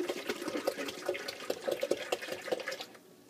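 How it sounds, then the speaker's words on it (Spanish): Alkaline water runs from a Kangen water machine, a steady, fairly quiet splashing flow for about three seconds that stops near the end. "Aquí tenemos la agua alcalina de Kangen, de la nueva máquina."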